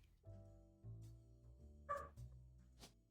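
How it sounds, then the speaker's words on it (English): A dog barking outside, a few short yips and barks spaced out over steady background tones, faint and distant-sounding. "Oh my god, the dog outside is going crazy."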